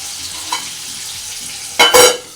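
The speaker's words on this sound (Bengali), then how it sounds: "মাছগুলো ঝটপট করে ভেজে নিই।" Fish frying in hot oil in a home kitchen: a quiet background gives way to a sudden, loud burst of spattering sizzle near the end.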